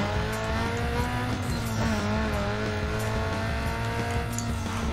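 A car races in the video game Need for Speed: Underground 2, its engine holding a dense, steady high-revving whine with a faint tire squeal over constant road noise, loud and close with no talking.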